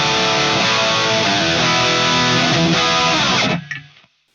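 Distorted electric guitar, played through a Fractal FM9 with room reverb, rings loud and dense for about three and a half seconds, then cuts off and leaves a short reverb trail fading to silence.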